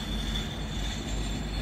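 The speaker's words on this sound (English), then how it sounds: "we find that train" A passing train, heard during travel near Rubyvale, Queensland, produces a steady rumbling roll with a faint high squeal, continuous and moderately loud throughout, with no voices.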